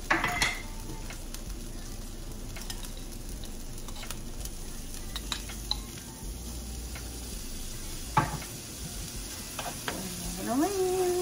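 Ginger frying in a pan gives a steady sizzle with stirring, clinks of utensils against the pan, and a brief rising tone near the end.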